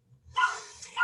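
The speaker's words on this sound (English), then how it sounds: "So I apologize for the barking." Puppies bark and yip behind a closed door, several quick high barks close together, loud and bright, with a short whimpering start.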